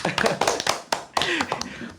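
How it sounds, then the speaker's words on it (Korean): A small group claps hard and noisily so as to sound like a bigger crowd, giving loud, uneven bursts of overlapping claps with a brief pause midway. "사람이 많이 있는 것처럼 보이기 위해서는 좀 시끄럽게 박수를 좀 쳐봤는데요"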